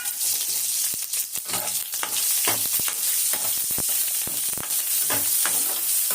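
Peeled and cut country onions frying for fish curry, a loud steady sizzle with a few sharp stirring clatters on top.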